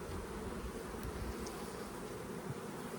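Honey bees buzz steadily and densely around an open indoor hive, a close, continuous hum with no pauses.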